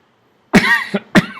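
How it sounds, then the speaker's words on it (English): Two sharp, close coughs with a brief pause between, the first longer and raspier, against an otherwise silent background. "I'm even thankful for my cough."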